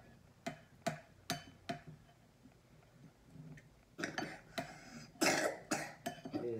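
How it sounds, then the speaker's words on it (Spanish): A female monkey coughing: a run of about a dozen short, sharp coughs at uneven intervals, quiet and somewhat distant, bunching into a denser, louder burst toward the end. "¿Sí escuchan a la mona con tos?"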